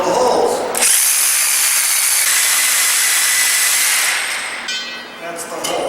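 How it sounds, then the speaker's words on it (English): Power drill boring holes into concrete blocks during block laying, a loud steady high-pitched whine running almost continuously for several seconds near the listener before briefly easing off. "I'm going to put my rods and I'm going to drill holes."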